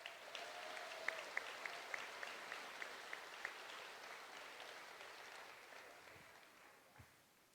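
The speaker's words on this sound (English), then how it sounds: "I think they deserve another round of applause for their work." Town hall audience applause with the congressman present, a faint, distant spread of clapping with a few sharper claps standing out early, tapering off gradually.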